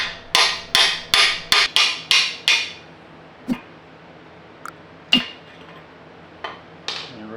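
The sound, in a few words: hammer tapping a socket to knock out welch plugs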